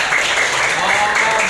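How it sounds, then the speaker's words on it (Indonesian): Classroom applause for a student who answered a question, a brief, loud burst of many hands clapping together, steady and close for about a second and a half. "Tepuk tangan untuk Samir."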